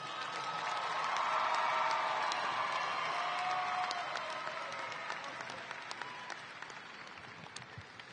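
A graduation ceremony crowd applauds at night with thick, continuous clapping that swells early, then slowly tapers, with faint cheers mixed into the mass of hands.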